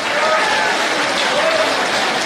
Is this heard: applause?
yes